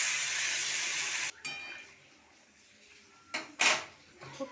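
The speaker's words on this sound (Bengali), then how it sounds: "এবার চালটা সেদ্ধ করে রাখা জলটা দিয়ে দেবো।" Water saved from boiling rice is poured into a cooking pan holding mustard paste, giving a loud hissing rush for just over a second, then cutting off, followed by faint clatters and a brief hiss nearby.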